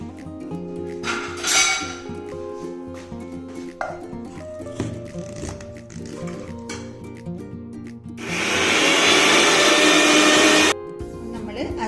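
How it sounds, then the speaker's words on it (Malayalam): A mixer grinder whirs loudly for a few seconds, grinding a cooled roasted masala mixture for a soya bean curry, preceded by kitchen handling clatter and rubbing. "നമുക്കിനി ഇത് ഒന്ന് അരച്ചെടുക്കാം"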